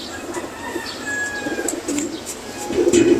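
Racing pigeons cooing at the loft, soft repeated coos and chirps close by with a louder burst of cooing at the end.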